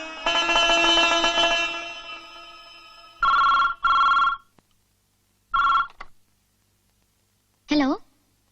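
A telephone rings in a Malayalam movie scene, with repeated short electronic ring bursts separated by silences after an opening stretch of sustained ringing tone.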